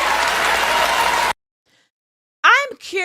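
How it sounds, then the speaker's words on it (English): Audience at the Oscars applauding a political acceptance speech, a loud burst of dense clapping that cuts off abruptly, followed by silence and then a voice speaking. "I'm curious about who's applauding"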